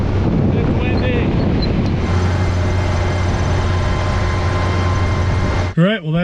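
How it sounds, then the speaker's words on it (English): Strong wind buffets the microphone on a Colorado trail, a constant roaring rumble with a low steady drone, and a voice briefly breaks in near the end. "It's windy."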